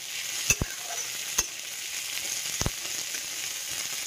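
Cumin seeds frying in a little oil at the start of palak paneer, a soft continuous sizzle broken by a few sharp clinks and taps of a spoon against the pan.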